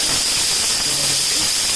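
A pressure cooker whistle vents steam on a stove during a fried chicken recipe, a loud sustained hissing jet with a high whistling edge that runs without pause for its whole length.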